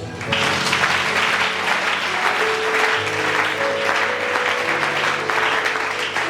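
A church congregation breaking into sustained applause during a sermon, a dense, even wash of clapping from many hands that holds for several seconds, with faint sustained musical tones beneath.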